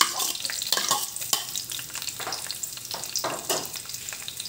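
Onion and garlic frying in a pan for adobo, a soft, continuous sizzle broken by crackling spits and repeated stirring scrapes, fairly quiet and close.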